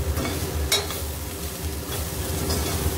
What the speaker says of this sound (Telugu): అల్లం వెల్లుల్లి పేస్ట్ వేసి బాగా ఫ్రై చేసుకుందాం ఒక 2 minutes